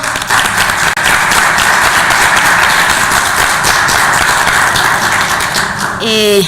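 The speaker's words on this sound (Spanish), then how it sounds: "para quien pido un aplauso" Sustained applause from an audience at a book presentation on return migration in Mexico, dense steady clapping filling the room for several seconds before a voice begins at the end.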